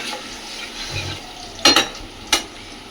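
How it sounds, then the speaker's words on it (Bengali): Pointed gourd curry in a pan gives a steady low hiss after water is added, broken by two or three sharp clinks of a utensil against the pot. "এর মধ্যে আমি এখন আপাতত জল দিয়ে দিলাম খুব বেশি জল তো দেবো না"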